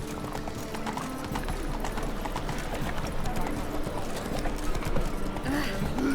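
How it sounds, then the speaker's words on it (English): Horse hooves clip-clop steadily on the ground in The Witcher video game, a continuous rhythmic trotting close by, with a faint whinny and game voices talking over it. "Whoa there, Roach."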